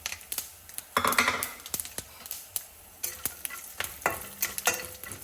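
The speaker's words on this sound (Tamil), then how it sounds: "நிலக்கடலையும் முந்திரியும் போட்டு நல்லா வறுத்துற வேண்டியது தாங்க." Peanuts and cashews frying in a pan, stirred with a spoon that scrapes and clatters against the metal in irregular knocks over a soft sizzle.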